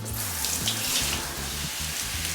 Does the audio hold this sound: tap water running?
yes